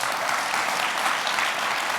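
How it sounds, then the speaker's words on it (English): A European business conference audience applauds two presenters, a thick, uniform rush of clapping from a large crowd that holds steady without pause. "we can take the massive applause that we'll get"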